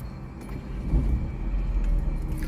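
A Citroën C3 car engine restarts after stalling, producing a close, low steady rumble that swells slightly and then holds an even idle.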